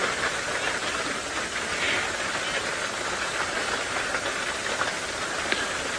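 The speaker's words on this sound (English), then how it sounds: "because it's raining too much" Heavy rain pours steadily on a safari drive in a dense, even hiss, close and constant throughout, with no voices.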